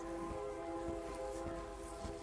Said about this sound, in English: The campsite is right next to a train, which is really annoying.